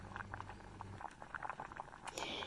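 Milk with fried vermicelli (shemai) bubbling on the stove gives soft, irregular popping and bubbling at close range, faint with small liquid blips and a brief clink near the end, without talking.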